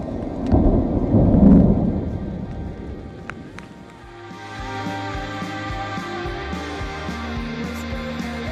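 Thunder from an approaching storm in the Wind River Range rumbles low and heavy, swelling over the first few seconds and then fading, followed by steady tonal sounds.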